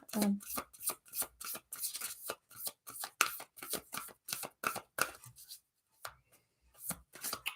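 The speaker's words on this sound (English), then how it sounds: "So we're getting a card for you, Ariana." Oracle cards are shuffled by hand in quick, close riffling bursts with short pauses between them, then a longer gap before a few more soft flicks; a voice talks lightly in the background.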